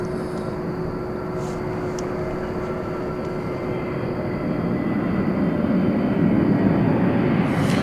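A Qantas airliner pushing back from the gate at DFW Airport at night: a steady, distant jet engine roar that swells gradually louder, with faint chirps on top.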